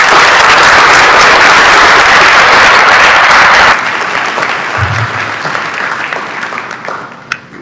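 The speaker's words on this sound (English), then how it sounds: "Please give a round of applause for your teachers, administration," Loud, dense audience applause at a magnet school graduation ceremony roars steadily for several seconds, then drops abruptly to a thinner, fading patter of scattered claps with a low rumble and one late sharp clap.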